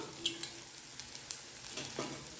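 Okra being stir-fried with masala and whole roasted peanuts gives a faint, soft sizzle broken by a few light clicks of stirring, quiet and close, with no talking.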